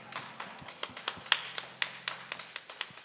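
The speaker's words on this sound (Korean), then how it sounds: "하나님 아버지께 큰 박수로 영광 올려드리겠습니다." Congregation clapping in church at a dawn prayer service, a scattered series of sharp individual claps at a moderate, uneven pace, fairly quiet and with no talk over it.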